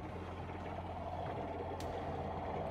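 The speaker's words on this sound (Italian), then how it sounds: "Vado ad aprire l'acqua e la pompa fa questo casino." The water pump motor of a camper parked in Rome, a constant low droning whir that runs without a break, fairly quiet and close, with no talk.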